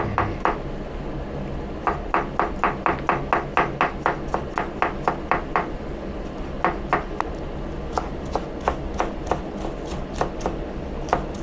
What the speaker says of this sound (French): je vais ciseler 2 gousses d'ail et un oignon rouge